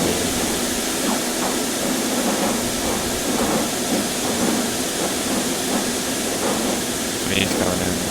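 Trains in the Transport Fever video game: a continuous rail rumble with soft hiss and occasional clicks of wheels, steady and moderately loud throughout, with no talking.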